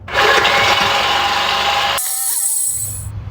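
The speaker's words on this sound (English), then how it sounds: "we're gonna cut the tailpipe behind the muffler so we can get the over the axle section out" A power tool whines loudly and steadily while cutting through a truck's exhaust tailpipe behind the muffler, then the cut stops abruptly and a brief high ringing follows.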